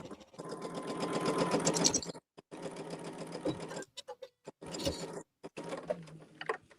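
A small Featherweight sewing machine stitches in quick, steady mechanical bursts of rapid clatter, stopping briefly between runs and then starting again. The close whir and needle rattle are heard alone, with no talk.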